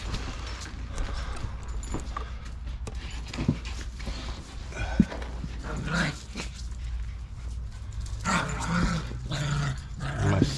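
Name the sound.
puppy growling while playing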